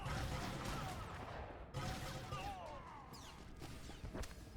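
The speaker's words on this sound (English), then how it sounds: "We use our awesome thermal grenade." A thermal grenade detonates in the Star Wars: The Old Republic video game, a dense crashing burst with whooshing debris, followed by scattered impact cracks and rumbling across the rest of the moment.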